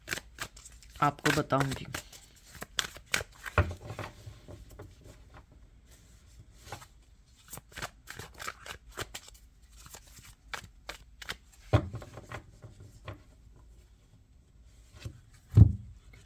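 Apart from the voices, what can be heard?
shuffling tarot cards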